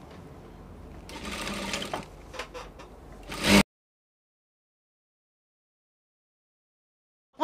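A sewing machine stitches bias binding around a sleeve in a rapid rattling run that stops abruptly after a few seconds, followed by silence.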